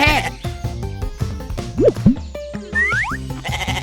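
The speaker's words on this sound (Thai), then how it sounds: "และนี่ก็คือแพะ" A goat gives a few short, quavering bleats in the middle of a busy stretch of music and sound effects, with a voice speaking around them.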